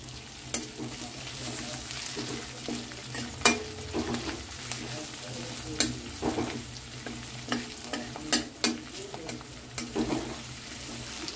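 Spices roasting in a pan for a chickpea-paste dish, a steady soft sizzle broken by frequent sharp scrapes and taps of a spatula stirring, close and moderately quiet, with no one talking.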